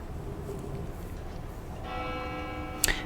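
Distant bells ring in the Lil Guardsman video game, a soft tonal chime rising over a low background murmur in the second half, followed by a brief bright ping near the end.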